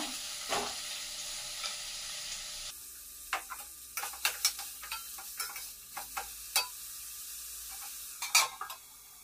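Finely chopped carrot, beans and capsicum frying in a pan: a soft steady sizzle with a run of scattered clicks and scraping stirs at close range, no voices.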